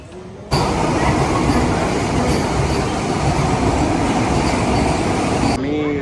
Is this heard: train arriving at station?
yes